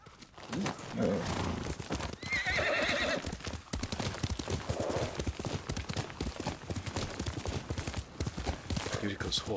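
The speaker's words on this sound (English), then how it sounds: "Yuriko's horse." Horse hooves clip-clopping on the ground and a horse neighing in the samurai video game Ghost of Tsushima, with a whinny early on amid steady footfalls and a voice speaking alongside.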